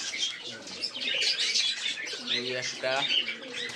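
Giribaz pigeons in a loft coo and chirp over a steady rustle and flutter of wings, with someone speaking briefly nearby.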